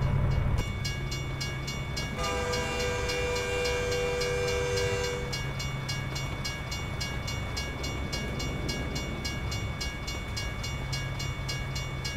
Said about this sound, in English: I hear a train somewhere.